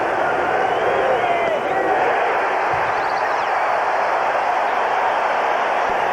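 A baseball stadium crowd at a 1987 NLCS game between the St. Louis Cardinals and San Francisco Giants, on its feet and cheering in a continuous loud roar, with an announcer talking over it.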